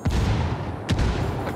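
Gunfire in the Ghost Recon PvP video game: two heavy booming shots in quick succession, loud and close, with no speech over them.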